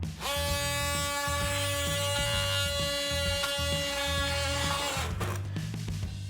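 A triangle-shaped oscillating power tool grinds chipped tile in a corner, giving a loud, steady electric whine with a buzzing drone that stops abruptly near the end, followed by a few light clicks.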